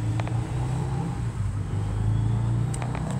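A 2018 Hyundai Tucson AWD's engine idles in a steady low hum after starting, heard from inside the cabin, with a few faint clicks over the even drone.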